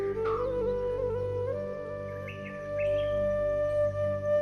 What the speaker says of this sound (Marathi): हा बारबेट नावाचा पक्षी ओरडतोय